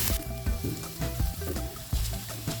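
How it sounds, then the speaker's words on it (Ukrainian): Carrots and onion sizzle and crackle in a hot uncovered pan, with irregular clicks and scrapes of stirring over a steady frying hiss. "Смажила я моркву без кришки"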